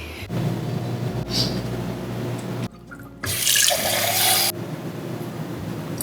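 Water runs from a tap to fill a container for watering a large houseplant, a steady close rush that briefly cuts out and then surges louder before settling back to a softer flow.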